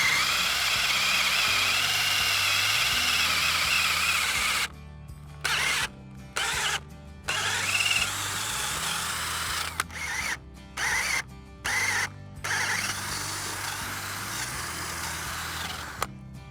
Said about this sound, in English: Where those two lines cross is where I'm going to go ahead and drill for my lag bolt.